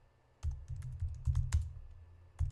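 A computer keyboard is typed on at a desk in quick, irregular bursts of close, crisp key clicks, with a short pause before a final few strokes.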